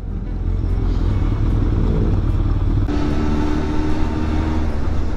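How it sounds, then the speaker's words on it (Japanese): Steady engine rumble from a Honda CB750F motorcycle on the move, loud and continuous with wind noise, a slight shift in tone midway. "今日もバイクでツーリング中。"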